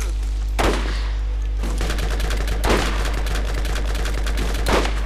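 Shotgun blasts in the shooter game Borderlands: four loud, separate booms roughly two seconds apart, each with a sharp crack and short decay, over a steady low hum and faint clatter.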